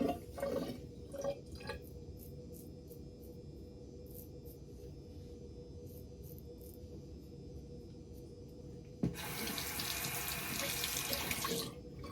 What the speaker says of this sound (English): I'll do a quick rinse here, and we'll go with pass number 2.